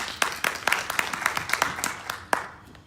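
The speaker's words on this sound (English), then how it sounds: "Another round of applause for him." A handful of people clapping at a London book launch evening, with crisp, slightly irregular claps that thin out near the end and a faint background voice underneath.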